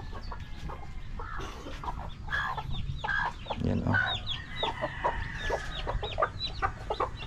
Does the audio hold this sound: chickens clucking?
yes